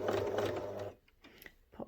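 A sewing machine stitches fabric for a bunny toy in a brief whirring run that stops abruptly, followed by a few small clicks and handling noises.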